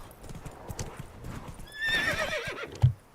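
Horse hooves clip-clop steadily while riding in the Witcher III video game, with a horse whinny rising in the middle and a thump near the end, moderately loud with no talking.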